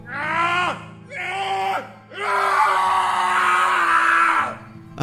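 Man screaming in horror in a spoken horror story: three loud, close, strained screams, two short ones followed by one long sustained howl that wavers in pitch before cutting off.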